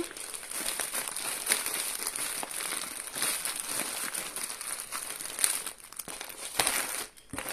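Continuous crinkling of a large plastic bag being handled up close, with rustling bursts that rise and fall throughout.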